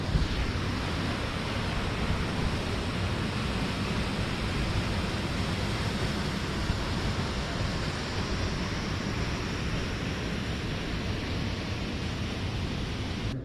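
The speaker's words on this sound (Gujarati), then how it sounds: "ધોધ પણ તમે જોઈ શકો છો" A steady, dense roar of rushing water pours without pause, broad and continuous from a waterfall close by at Ghaghadiyo Ghuno near the Sugala Khodiyar temple, with no voices.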